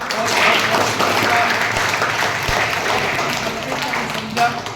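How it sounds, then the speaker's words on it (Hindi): A gathered audience gives loud applause for visiting guests at a community event, a thick continuous roar of clapping with crowd noise and possible voices mixed in, fairly close and sustained. "इनके लिए जोरदार तालियां"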